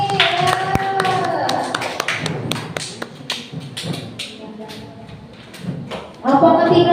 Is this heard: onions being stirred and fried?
no